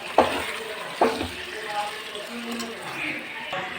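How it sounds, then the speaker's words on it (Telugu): Chicken pieces stirred into a pan of spiced curry with salt, chili and turmeric: a spoon knocks sharply against the pan twice amid a soft sizzle, while a voice talks over it. "చికెన్ అయితే వేసేసి ఇలా బాగా కలపాలి"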